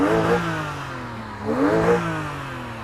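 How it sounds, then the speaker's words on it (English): A 2020 Porsche Boxster's naturally aspirated flat-six engine revs twice, rising smoothly in pitch and falling back, loud and close, with no voices. "this is what a flat 6 naturally aspirated engine sounds like."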